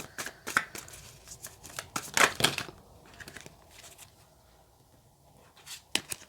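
Tarot cards are shuffled by hand in quick crisp riffling bursts and soft slides, close and quiet, with pauses between the flurries and no talking.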